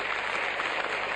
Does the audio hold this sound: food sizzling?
no